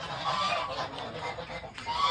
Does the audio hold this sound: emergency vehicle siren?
no